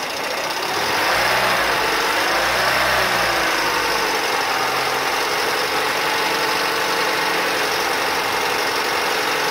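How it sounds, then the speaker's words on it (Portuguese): Peugeot 207 engine held steady at about 1000 RPM during an oil pressure check, a continuous mid-pitched idle hum with faint knocking texture, close and alone after a brief rise in the first second. "Vou acelerar em 1000 e deixar em 1000."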